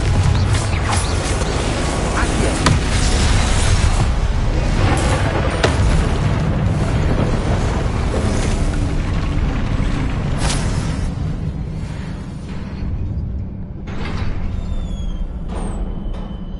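A Confringo blasting-curse explosion in Hogwarts Legacy: a loud, sustained booming roar with rumbling low end and crackling debris, tapering slightly toward the end, no speech over it.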